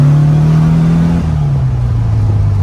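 A restored, lowered 1964 Volkswagen Beetle with an 1835cc engine hums steadily in second gear at around 3,000 RPM, a loud, continuous close-up engine drone whose pitch dips slightly partway through.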